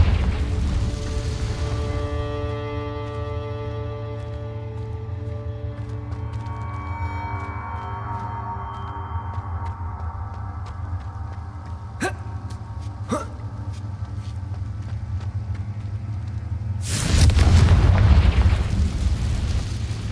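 The Confringo blasting spell from Hogwarts Legacy goes off as a loud, booming burst over a steady hum of game ambience and music, with a few sharp clicks before it.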